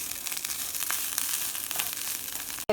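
Coriander powder and garam masala toasting in a hot pan for carrot, beans and tomato rice, giving a continuous close crackling sizzle with small pops, then a brief break near the end.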